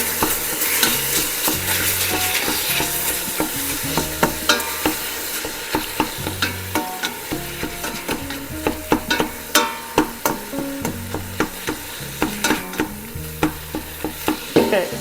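Frozen chopped onions and vegetables sizzle and fry in a soup pot for beef vegetable soup, a steady crackling hiss punctuated by repeated spoon scrapes and stirring knocks, close and alone without talk.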